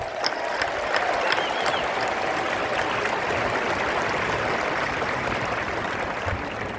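Sustained applause from a large audience at a West Point graduation ceremony, a steady roar of clapping that swells slightly near the start and then carries on evenly.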